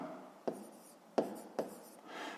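A pen writes on paper while a fifth-grade math exercise is worked out, giving soft scratchy strokes broken by three sharp taps and a light rubbing tail, close and quiet with no voices.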